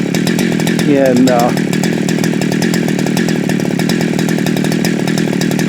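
A chainsaw runs steadily nearby at a loud, even idle-to-mid throttle throughout, with someone briefly speaking over it.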